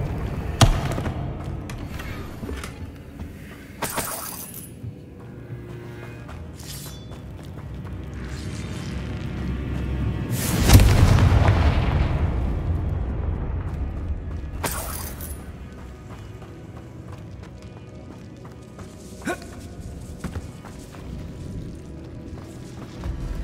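Confringo fire spells set off explosions in Hogwarts Legacy: a few sharp bursts spaced over the stretch, one heavy boom near the middle with a long rumbling tail, and faint rustle and ticks between them, with no talk.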